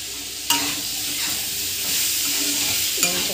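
Ridge gourd pieces frying in a pan as chili powder goes in and gets stirred, a steady close sizzle with scraping stirs and sharp utensil knocks at the start and end.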